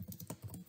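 Quick keystrokes on a computer keyboard, a short run of soft clicks close to the mic, faint and steady with no voices.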